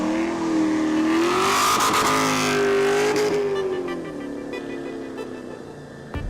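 Mazda RX-7 drifting in a drift battle, its engine revving hard and loud with rising and falling pitch sweeps, close by, then easing off toward the end.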